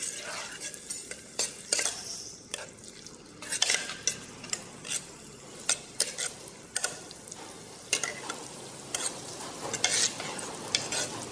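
Minced garlic and ginger sizzle steadily in a hot pan while a utensil stirs and scrapes, giving irregular clinks and sharp scraping strokes over the frying hiss, while making Vietnamese clay-pot braised frog.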